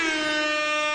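A loud air horn sound effect blasts in one sustained, steady tone for about a second, with no talking over it.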